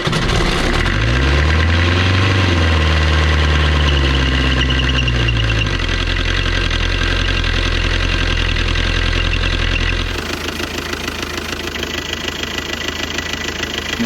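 A Volvo Penta MD21A marine diesel runs loud and close. Its pitch rises and falls as it revs early on, then settles into a steady, heavy idle with a constant low throb and no voices.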